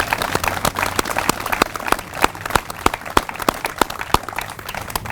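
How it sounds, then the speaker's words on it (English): Scattered, uneven clapping from a modest audience at a transit ribbon cutting ceremony in Idaho Falls, sharp individual claps over a low murmuring background. "I would like a pre-applause for all those drivers that are going"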